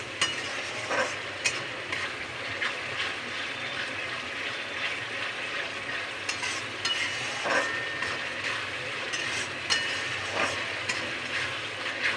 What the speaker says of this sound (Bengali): মশলাটা বড্ড ছিটকাচ্ছে